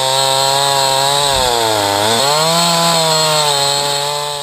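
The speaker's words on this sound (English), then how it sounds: "Chainsaws are not designed for ripping, so it's always a problem to cut with the grain as opposed to cross-cutting." A chainsaw rips along the grain of wood to cut out a chair. The engine is loud and close, droning steadily, and its pitch dips under load midway before rising again.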